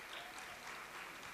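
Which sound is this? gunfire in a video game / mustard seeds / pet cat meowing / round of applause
round of applause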